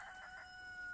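A chicken on a vegetable farm gives a brief crowing call, faint and close to the microphone, lasting about a second with no voices.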